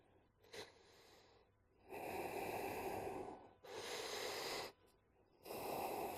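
Slow, deep breaths drawn in and pushed out during a yoga flow, a short sniff followed by three long, loud, airy exhalations close to the ear, separated by quiet pauses.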